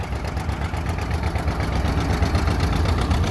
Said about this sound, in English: Got a John Deere 830 diesel.